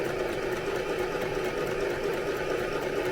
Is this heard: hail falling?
no